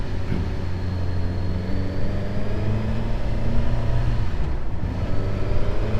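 A Suzuki GSX-S1000GT and a Honda Transalp 750 motorcycle riding on a road, a steady close engine drone with a rising and falling pitch under constant wind and road noise.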